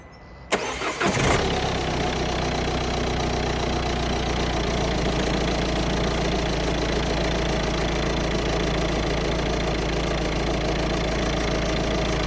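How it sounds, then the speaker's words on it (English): A Peugeot 1.6 e-HDI diesel engine with its engine warning light on cranks and catches with a sharp burst, then settles into a steady, loud diesel idle that continues unbroken to the end. "Let me start the engine"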